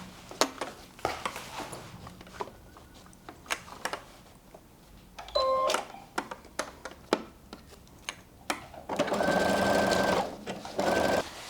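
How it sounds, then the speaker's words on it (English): A sewing machine stitching straight across a beach tote bag, short motor whirs and a longer run near the end mixed with light clicks and handling taps, close and quiet. "just stitch right across."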